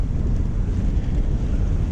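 Strong wind buffets a microphone aboard a Bavaria 41 sailboat off the west coast of Norway, a dense continuous low rumble with waves faintly beneath.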